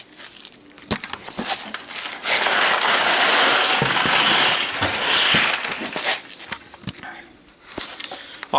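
A direct drive wet brass tumbler runs inside a carrier bucket, giving a steady loud churning and rattling of tumbling brass, with irregular clanks and knocks at the start and finish.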